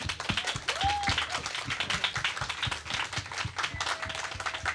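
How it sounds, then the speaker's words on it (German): Applause breaks out in a small studio audience at a German rap producer panel, with scattered uneven hand claps over a steady murmur and a brief whistle-like tone in the room. "Und deswegen gerne auch nochmal einen Applaus für die beiden,"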